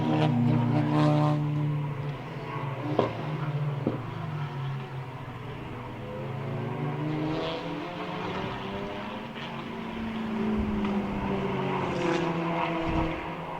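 A JMH Automotive Lamborghini racing car rounds the hairpin at Snetterton during an endurance race, its engine note falling and rising through the corner as a steady, fairly loud drone with shifting harmonic sweeps, heard alone.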